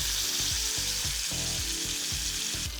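Lamb rump sears in a hot pan, a loud, dense sizzle that runs throughout, with deep, repeated low thuds and bumps as the meat is shifted and turned onto each side.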